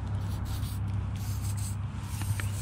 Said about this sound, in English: We're gonna spray this all over our guides just so that they don't freeze up.